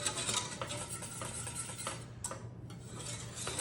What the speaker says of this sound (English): So we'll just whisk it a little while it's cooking.